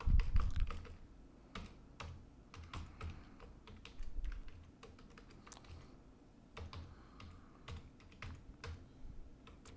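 Typing on a computer keyboard while entering a sample comment in a Python file: steady runs of light, close keystroke clicks with brief pauses, no talking.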